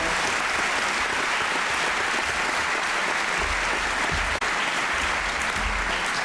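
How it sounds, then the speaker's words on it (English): Audience applause at a high school commencement, a dense, sustained wash of clapping from a large crowd that runs continuously with little variation and no speech. "Can we get a round of applause for everyone here supporting their students?"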